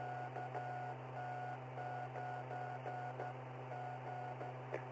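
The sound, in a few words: Morse code sent over amateur radio with a J38 keyer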